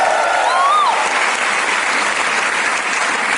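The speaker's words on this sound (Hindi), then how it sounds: "इस दादर ओपन के लिए तालियां होना चाहिए" A crowd at an Indian entrepreneurs' gathering bursts into loud, sustained clapping, a dense close roar of hands with a short whistle early on, continuing evenly to the end.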